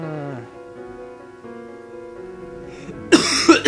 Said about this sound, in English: Yes, I coughed at the number 3!